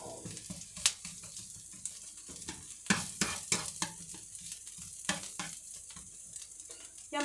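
Chopped onions sizzle and crackle in a hot frying pan while being stirred, as part of a beef mince filling for tortilla triangles. Close, steady frying noise with scraping stir strokes and no talking.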